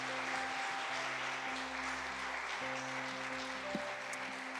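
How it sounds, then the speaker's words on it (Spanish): A church congregation at a marriage gathering applauds first-time visitors, a steady, fairly faint wash of clapping beneath a sustained musical hum from keyboards. "Damos un fuerte aplauso a nuestros amigos que nos visitan por primera vez."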